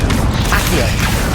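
Spell cast in Hogwarts Legacy, a loud magical burst with a booming, crashing impact, dense and continuous for over a second, with game effects layered throughout.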